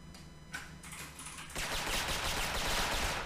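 A compact Beretta fires in the online shooter Special Force, with a few faint shots at first and then a dense, continuous burst of rapid gunfire that stays loud to the end.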